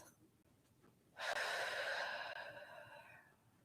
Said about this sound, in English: Nice breath in through the nose, filling all the way up. Exhale out through the mouth.